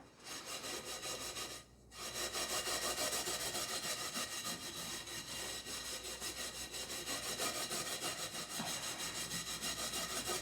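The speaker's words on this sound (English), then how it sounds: "So I'm just going to give it another scrub again." An Aldi Dishmatic washing-up brush loaded with washing-up liquid scrubs steadily and rhythmically at close range, with a short pause near the start before the brisk bristle strokes carry on with no talking.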